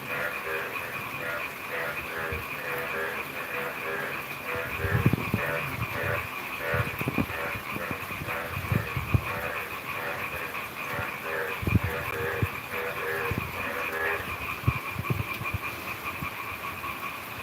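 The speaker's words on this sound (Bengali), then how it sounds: "নিশিরাতে যে ঝিঝি পোকার আওয়াজ ব্যাঙ্গের শব্দ হালকা বৃষ্টি" Frogs croak in a dense, pulsing chorus while crickets trill steadily late at night in light rain, with occasional soft thumps in the foreground.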